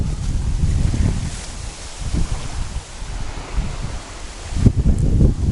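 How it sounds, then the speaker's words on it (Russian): Waves on a stormy river churn and slosh steadily while gusting wind buffets the microphone in uneven surges, loud and close throughout. "Прям слышно волны как идут."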